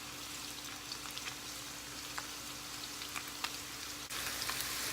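Chicken taquitos (flautitas) fry in hot oil until crispy, giving a steady, dense sizzle with scattered pops and crackles. The sound is close and continuous and grows slightly louder near the end.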